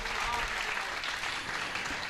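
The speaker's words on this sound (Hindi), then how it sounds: "सब एक बार जोरदार तालियां बजाएं गजेंद्र भैया के लिए" Audience at a Hindi poetry recital by Gajendra Solanki breaking into loud, dense applause, a steady wash of clapping from a large crowd with some voices mixed in.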